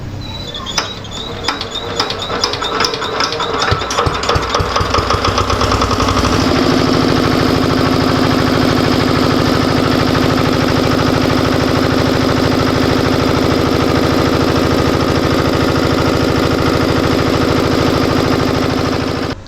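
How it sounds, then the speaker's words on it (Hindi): A generator engine on test after an alternator diode repair, first cranking and sputtering with rapid irregular knocks, then catching and settling into a loud, steady, close roar that drones on without talk. "जब जनरेटर चालू होगा तो इस टाइम ज़्यादा नॉइज़ होगी"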